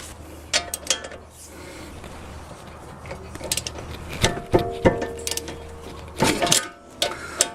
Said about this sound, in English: 18 millimeter wrench in place. Righty tighty, lefty loosey.